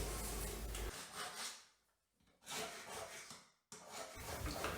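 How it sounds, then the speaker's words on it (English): A hand grout saw scrapes hard epoxy grout between shower tiles in three long, close, rasping back-and-forth strokes with short pauses between them. "The epoxy grout is really hard. I'm going to attempt to use this grout saw."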